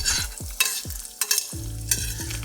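An egg frying in a pan while hot bacon fat is spooned over its top, steady close sizzling broken by several sharp metallic scrapes and clanks of a spoon against the pan.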